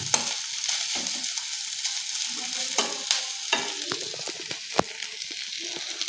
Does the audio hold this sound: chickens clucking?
no